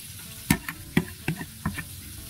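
Misua noodles and tilapia cooking in a pot, with a utensil stirring and knocking against the pot in about five sharp, close clanks and scrapes over a soft background.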